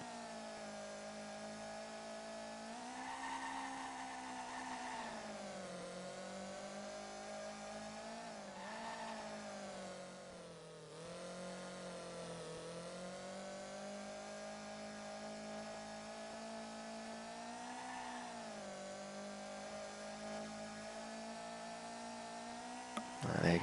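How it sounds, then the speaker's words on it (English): Go-kart engines in the racing video game Formula Karts buzz continuously for over twenty seconds, a high, nasal whine that rises and falls in pitch with throttle and corners, faint and steady with no talk. "I just wanted you to hear the engine roar of the go-karts for a bit."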